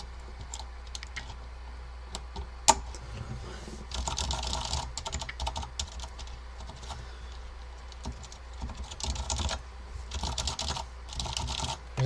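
Clicky typing on a restored Focus FK-2001 keyboard with Alps switches and ivory keycaps, quick irregular bursts of close keystrokes with a few pauses and one sharp louder clack.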